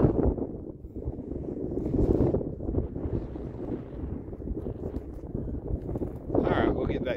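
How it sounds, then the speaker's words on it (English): Strong wind on the Appalachian Trail in Virginia buffets and rumbles across the microphone continuously, gusting louder at moments. "It's windy. It's windy."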